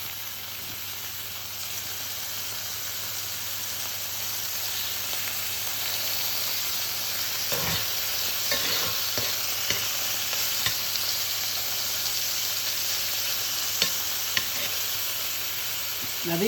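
Monkfish cheeks fry in rendered fat in a pan, giving a steady close sizzle and hiss throughout with a few sharper crackles and pops partway through, no voices.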